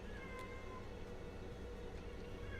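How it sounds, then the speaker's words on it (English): A cat meows loudly and insistently over a busy background, one clear drawn-out call standing out near the start, heard alone without talk. "Loud ass cat."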